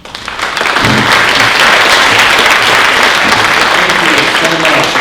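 An audience at a university awards ceremony breaks into loud, sustained applause that swells within the first second and holds as a dense wall of many hands clapping, close and full, with scattered voices mixed in.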